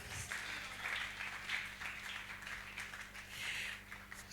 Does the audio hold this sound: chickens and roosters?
no